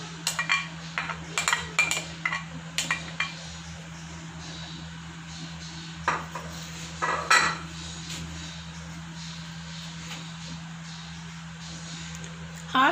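Chopped medium tomatoes and green chillies go into a pot, with irregular clinks and clatters of utensils against the metal and a steady low hum beneath.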